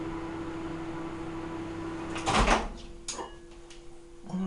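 A microwave oven heating an edible fabric mixture hums steadily, then a loud clunk of the door or button breaks in before the drone resumes with a few light knocks, close by and without talk.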